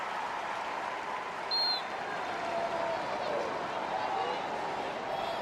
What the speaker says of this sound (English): huge applause here for the introduction of all three